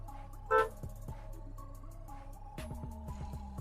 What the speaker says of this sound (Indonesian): Kemudian kita coba klakson